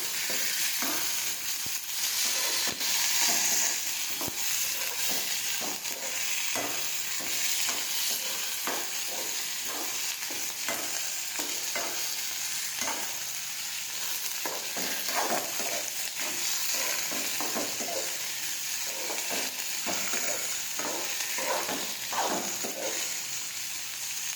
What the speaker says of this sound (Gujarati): હવે સાતળી લઈશું થોડી વાર.